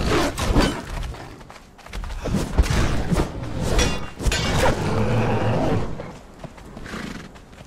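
A horse in the Conan Exiles video game gallops with steady hoof thuds and lets out loud whinnies, mixed with dense game effects and crashes throughout.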